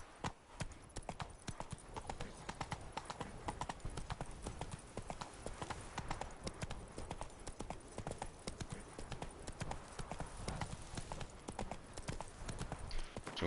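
Roach, the horse in The Witcher 3, gallops with a steady, rapid clip-clop of hooves that runs nonstop, loud and close, over a dense bed of outdoor ambience.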